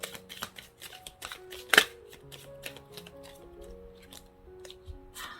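A tarot card is slid and drawn from a deck during a Korean love-fortune reading, with soft papery rustles and light snaps close by and one sharper flick partway through, mostly alone without talk.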